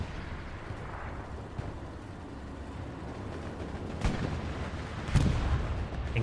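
Muffled, distant gunfire from a tank battle in the World War II shooter Hell Let Loose, Omaha Beach map, with low rumbling and a couple of heavier booms near the end.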